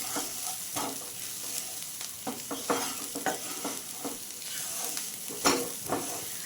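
A spring onion dish sizzles in a pan as cumin and turmeric powder are stirred in, with repeated scraping strokes of a spatula over a steady frying hiss and no talk.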